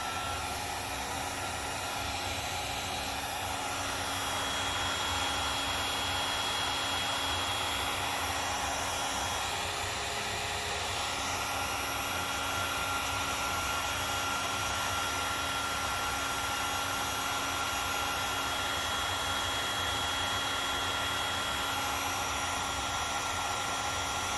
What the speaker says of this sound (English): some of these heat guns, like this one here, goes up to 1100 Fahrenheit